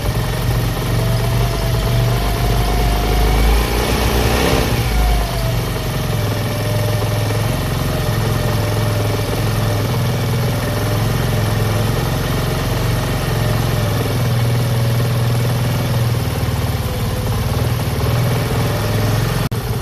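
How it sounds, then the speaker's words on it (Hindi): A motorcycle engine idles steadily and loudly for the whole stretch, a low continuous rumble with a slight shift in pitch partway through, after carburetor fuel mixture adjustment. "तो इसी तरह आपने मोटरसाइकिल को स्टार्ट करना है।"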